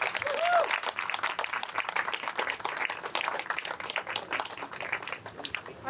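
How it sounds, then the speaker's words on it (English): Crowd applauding for sponsors at an outdoor mural unveiling and community room ribbon cutting during Art Hop, a steady wash of clapping across the whole stretch, with some voices mixed in. "Let's give them a round of applause."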